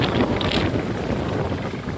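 Strong wind buffets the microphone on a rainy afternoon out in the fields, a continuous loud broadband roar with steady gusting and no clear pauses.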